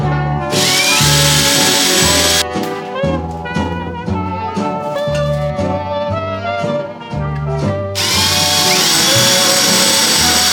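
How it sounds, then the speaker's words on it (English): A power drill whirs loudly in repeated bursts, its motor pitch rising and dropping as it works, with brief pauses between runs. "I have never used a drill to do wall things"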